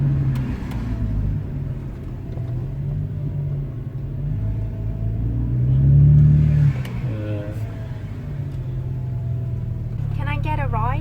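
A car drives along and accelerates with a steady low engine rumble, swelling briefly into a louder surge midway before settling back into continuous road noise.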